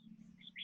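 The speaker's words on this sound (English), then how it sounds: "we got a loud bird somewhere" A bird gives a few short, high chirps in the background over a steady low hum.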